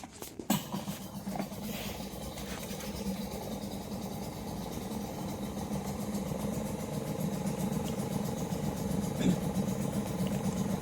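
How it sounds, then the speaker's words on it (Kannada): An engine cranked into life by a man near a mangrove forest, with a brief loud burst at the start settling into a steady low idling rumble that continues throughout, with possible faint voices in the background. "ಸೊ ನಮ್ಮ ತಂದೆ ಈಗ ಇಂಜಿನನ್ನು ಸ್ಟಾರ್ಟ್ ಮಾಡ್ತಿದ್ದಾರೆ"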